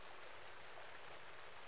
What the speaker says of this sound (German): Ein schicksalhaftes Treffen mitten in strömenden Regen.